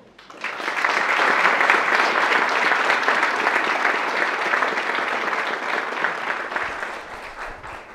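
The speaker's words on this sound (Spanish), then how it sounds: "Recibamos con un fuerte aplauso a José Ochoa." Sustained audience applause welcomes a speaker to the stage at a university conference in Ciudad Juárez, rising quickly to a steady, dense wash of clapping that holds for several seconds before gently tapering.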